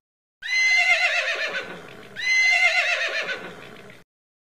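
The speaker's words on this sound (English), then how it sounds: "Horse." Horse neighing twice in a row, each a loud, shrill whinny that descends and trails off, close and clear with nothing else around it.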